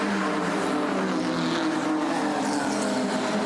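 BMW E30 race cars scream past on the front straight at Pukekohe during a New Zealand race series event, a loud, sustained pack of engines droning close by with shifting pitch as they pass.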